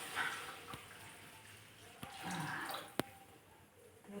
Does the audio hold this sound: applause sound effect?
no